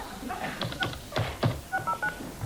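A string of telephone keypad tones as a number is dialed on a live 1990 television talk show, short beeps in an uneven rhythm, with faint voices and studio noise underneath.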